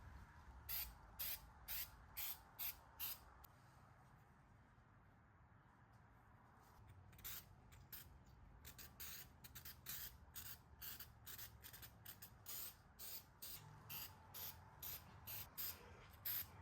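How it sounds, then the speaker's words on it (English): Stone texture spray paint hisses from a can in short repeated bursts, with a pause in the middle before the spraying resumes in a quicker series of sharp, close blasts. "I added this stone spray paint on the top and then added the brown texture spray paint on the bottom"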